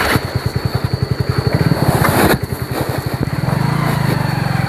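A motorcycle engine chugs nearby with a fast, rhythmic thumping putter. It briefly revs louder before settling into a steady, even idle.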